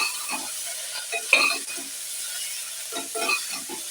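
Tomato pieces and masala frying in a pan, with a spoon stirring in short scraping bursts over a steady sizzle. Close and moderately loud, with no talking.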